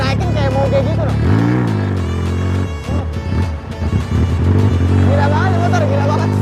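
A Yamaha Scorpio 450cc motorcycle engine, custom-built, runs loud and near with a steady low rumble, rising in pitch as it is revved midway, while a person talks over it.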